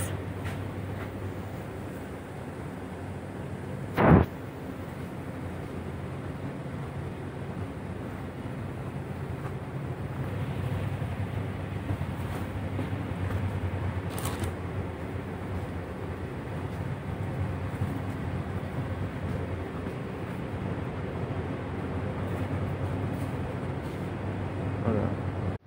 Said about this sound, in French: Nous y sommes à l'intérieur d'un NL204 hybride.